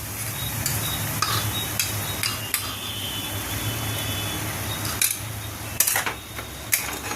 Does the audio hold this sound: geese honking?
no